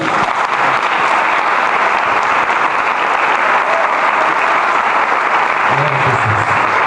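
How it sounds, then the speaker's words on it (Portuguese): A church congregation at a Portuguese-language worship service claps for Jesus, a continuous, loud round of applause sustained for about seven seconds, with a voice faintly audible near the end. "Aplaude Jesus"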